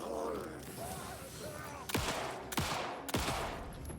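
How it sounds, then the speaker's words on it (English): Three sharp gunshots in the survival horror game Alan Wake 2, spaced about half a second apart, each a hard crack with a short tail over a dense, murky game ambience. "I'm pretty sure I missed one of those shots."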